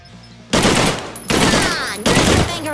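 An automatic rifle firing at zombies in the VR shooter Drunk Or Dead 2: three long, loud, dense bursts of rapid fire with short gaps between them, close to the listener.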